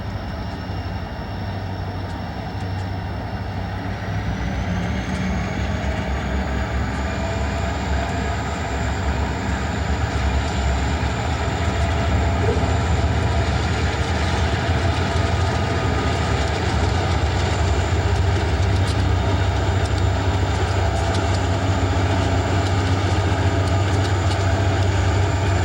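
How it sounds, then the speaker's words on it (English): A freight train leaves Roseville heading east, hauled by two SD40-2 locomotives with an AC4400 and an SP SD40M-2 between them, a loud continuous engine drone with rolling rumble and a rising high whine. "Two SD40-2s sandwich an AC4400 and an SP SD40M-2 as they leave Roseville heading east."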